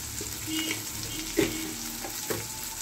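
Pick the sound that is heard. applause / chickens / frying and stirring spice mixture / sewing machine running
frying and stirring spice mixture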